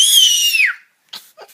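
A small child imitates a cat with a high, wailing meow that glides downward and fades, followed by a couple of faint short vocal sounds and breaths in an otherwise quiet room.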